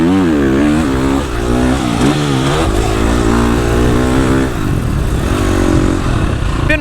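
A 250 motocross dirt bike with Race Tech KYB suspension rides a rough track, its engine loud and close, revving and rising in pitch through repeated throttle bursts and shifts.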